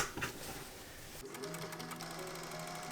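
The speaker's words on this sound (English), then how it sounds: "Before cutting anything, I'm going to sew a line of stitching around the outer edge of the rectangle." A sewing machine runs a steady line of stitches around the outer edge of a fabric rectangle for a dress. The motor whirs continuously and sounds close and clear, with a short burst of handling noise at the start.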